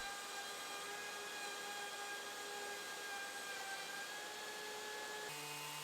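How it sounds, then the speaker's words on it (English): A handheld router fitted with an edge guide cuts a groove in a wooden picture frame while dust collection runs, making a steady, loud high-pitched whine with a constant roar that cuts off abruptly near the end. "using the handheld router with an edge guide, I routed in the groove for the picture, now with the dust collection hooked up"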